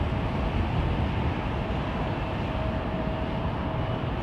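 Airbus A380 engine run-up at London Heathrow Airport: a steady, dense jet roar with a faint whining tone throughout, distant but loud and unbroken.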